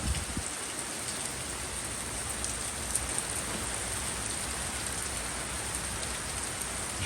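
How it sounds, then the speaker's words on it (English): Heavy rain pouring down onto flooding streets, a dense, steady hiss of rainfall that continues without a break, with no talking. "It was coming down so hard."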